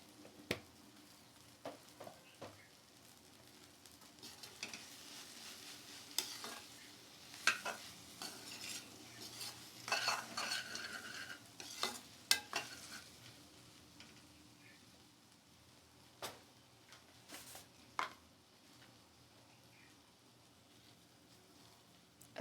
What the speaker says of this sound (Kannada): ಇಷ್ಟನ್ನು ಹಾಕಿ ಚೆನ್ನಾಗಿ ಬಾಡಿಸ್ಕೊಳ್ಳಿ